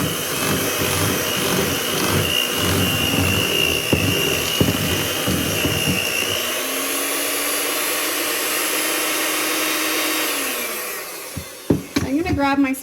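An electric mixer beats flour in a bowl, pushed up the sides, with a steady close whirring drone that holds for several seconds before winding down, followed by a few knocks.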